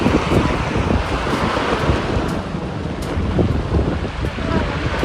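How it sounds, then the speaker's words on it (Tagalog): Sea waves wash steadily onto a Philippine beach where fishing boats land, a continuous close surf rush with gusts of wind buffeting the microphone throughout. "So Nabal po pala ngayon ay naligo po sa dagat"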